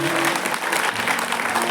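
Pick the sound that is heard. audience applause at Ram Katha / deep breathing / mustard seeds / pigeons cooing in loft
audience applause at Ram Katha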